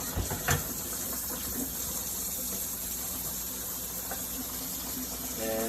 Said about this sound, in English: I'm just gonna bring them to the sink here, strain it, start running them under cold water.